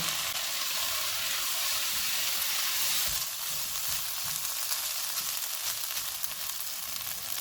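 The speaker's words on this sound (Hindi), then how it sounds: "आधा कप प्याज, 1 टीस्पून सोया सॉस। इनको 2 से 3 मिनट तक भूनेंगे।" Chopped onions with capsicum and a splash of soy sauce sauté in a hot pan, giving a loud, steady hissing sizzle that runs throughout without any talking.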